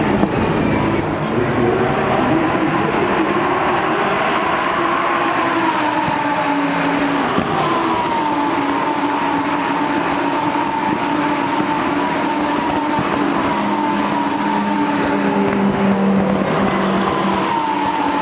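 A GT4 race car at the Spa 24 Hours motor race roars steadily throughout, its engine tone shifting as it passes, loud and continuous with other track noise behind it and no talk over it.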